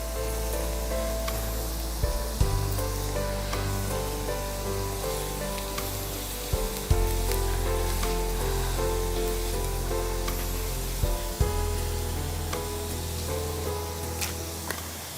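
Dried red chillies sizzle and crackle in hot oil with fenugreek and asafoetida for a chicken rasam, a continuous close frying hiss broken by a few louder pops and clanks.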